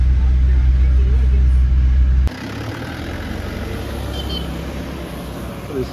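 Engine of the car that carried a traveller to a hilltop holy site in the Indian hills, a steady low rumble heard from inside the vehicle, louder for the first two seconds then softer and continuous.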